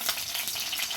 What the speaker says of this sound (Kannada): ಎಣ್ಣೆ ಕಾದ್ಮೇಲೆ ಸಾಸಿವೆ ಹಾಕೊಳ್ಳೋಣ, ಕರಿಬೇವಿನ ಸೊಪ್ಪು,